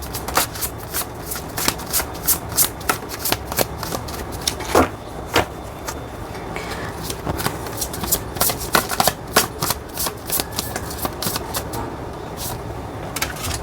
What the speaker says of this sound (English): Let us start shuffling.